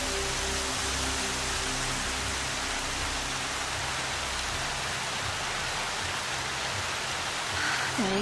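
Steady, dense rain falls in the Horizon Zero Dawn video game as a continuous broadband hiss, loud and close, with faint low musical tones under it at the start.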